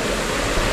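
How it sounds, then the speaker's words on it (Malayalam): Loud, steady rushing of a fast stream, heard close as a brief burst of dense, unbroken water noise. "ഭയങ്കര സൗണ്ടാണ് ഇവിടെ വെള്ളത്തിൻ്റെ"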